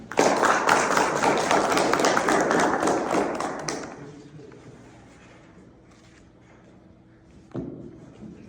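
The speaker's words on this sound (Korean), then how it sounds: "뜨거운 박수로 맞이해 주십시오" An audience gives a warm round of applause to welcome a guest speaker, dense clapping for about four seconds that quickly dies away into a quiet room, broken by one soft thump near the end.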